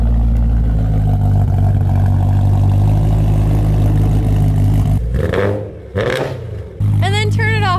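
A BMW E92 M3 engine idles with a steady, low hum, evenly for several seconds, then briefly dips and cuts out before a voice comes in near the end.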